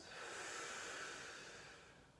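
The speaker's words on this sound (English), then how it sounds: "start to take some deep breaths here, breathing in really deep," A deep breath drawn in and let out slowly during a yoga spine workout, a soft, close airy hiss with no talking.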